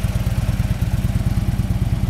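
A 2011 Harley-Davidson Road Glide Ultra with a 103 cubic inch motor idles close by, its low, lumpy exhaust pulsing in a quick, even rhythm with mechanical clatter on top.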